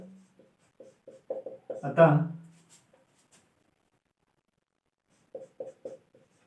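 Handwriting a maths solution on a board or paper, a series of short, faint strokes in quick bursts with a pause between, plus a brief voice sound in the middle.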